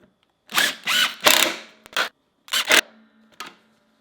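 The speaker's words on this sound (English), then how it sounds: "Line your machine up with those 4 holes and then proceed to screw in the 4 mounting screws." Screws being driven into the four mounting holes of an NP4 leather skiver machine, a handful of short close whirring bursts separated by brief quiet gaps.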